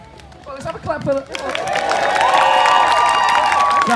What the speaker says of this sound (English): let's have a clap for that.